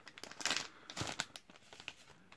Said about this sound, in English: now let's take out this console from its plastic bag